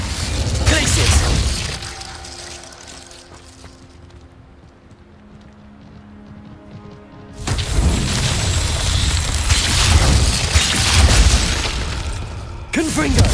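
Glacius, the freezing spell in Hogwarts Legacy, lands in loud crackling, shattering bursts at the start and again later, with a quieter stretch of ambient game sound and faint music between them.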